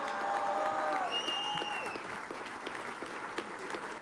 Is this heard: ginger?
no